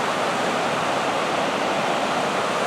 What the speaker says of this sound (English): the sound of the water might ruin our audio, so Tom, you're gonna need those lapel mics